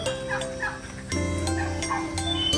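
Turkeys, parrots and other birds at a nature park in Kuching clucking and calling together, busy and close, with a constant background hum and scattered sharp chirps.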